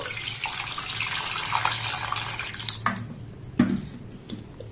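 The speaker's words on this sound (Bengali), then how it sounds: "এবার দেখুন এখানে আমি জল দিয়ে দেব।" Water poured into a saucepan holding raw mango: a continuous splashing, trickling pour with a few sharper splashes and drips near the end, close and moderately loud, no talk.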